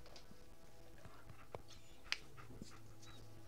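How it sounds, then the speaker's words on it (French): A dog in the video game Fallout 4 whimpers faintly with soft whines and light panting, plus a few brief sharp sounds over a low background, with no talking. "Voilà le chien."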